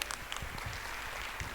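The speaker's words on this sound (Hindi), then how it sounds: "हमारे पेरेंट्स के लिए जोरदार तालियां बजाइए।" Clapping from a crowd at a school annual day, steady and dense throughout, with scattered sharper claps standing out near the start.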